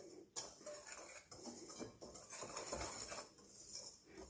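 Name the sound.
mixing sugar into pancake flour in a bowl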